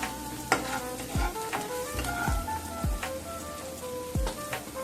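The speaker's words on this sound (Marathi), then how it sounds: "मी तर अर्धा चमचा जिरी टाकते आणि चांगली व्यवस्थित माझी परतून घ्यायची आहे" Cumin seeds sizzle as they are sautéed in a pan for drumstick-leaf bhaji, a soft steady crackle with a few sharp scrapes of a spoon stirring them, heard alone and at close range.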